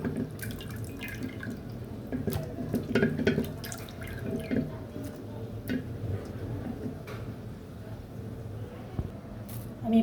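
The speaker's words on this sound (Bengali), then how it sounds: "মাছটি আমি ধুয়ে ফেলছি" A katla fish is rinsed under running water in a kitchen, with irregular drips, splashes and light handling taps close by, and a low voice in the background.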